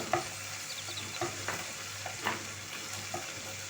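Tomato paste frying in oil alongside chicken liver gives a quiet, continuous sizzle, with several soft stirring scrapes and clicks spaced through it, heard up close without speech.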